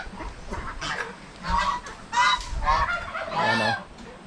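Geese honk repeatedly in loud, harsh bursts on a small farm with ducks and a few chickens, several calls overlapping close by with short gaps between them.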